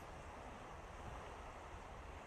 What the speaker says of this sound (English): Can you guys hear the waves?